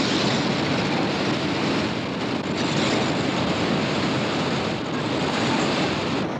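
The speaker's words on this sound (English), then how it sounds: "Here's the water coming down. Now this is the American Falls." Heavy water of the American Falls at Niagara Falls rushing and crashing in a steady, loud, continuous roar, close by with no voices over it.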